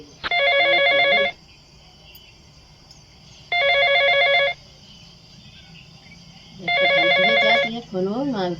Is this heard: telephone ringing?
yes